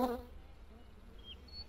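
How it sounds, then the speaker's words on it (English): Bees buzz in a hidden object video game, a faint, steady insect drone that runs for under two seconds with a few brief higher whines and no talk. "So we gotta distract the bees."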